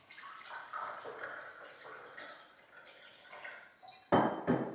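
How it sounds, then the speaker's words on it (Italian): Water is poured into a container holding table salt, a steady faint trickle and splash followed by louder clinks and sloshing near the end, in a quiet room. "Ci metto adesso l'acqua."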